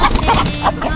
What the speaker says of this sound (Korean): 잽싸게 달려오지만 잡히지 않는 그 이름 닭